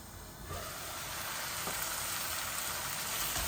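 Cauliflower and sweet pumpkin sizzle in a hot pan for a pangas fish curry, giving a loud, steady, close frying hiss with no talking.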